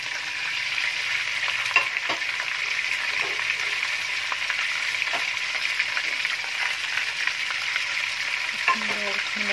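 Meat frying in a pan with spices going in, a steady close sizzle with stirring scrapes and small clicks throughout, no talking.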